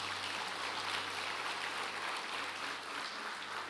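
Steady applause from a church congregation honoring Jesus during a Portuguese-language evening service, a dense, even patter of many hands clapping without pause and with no voices over it.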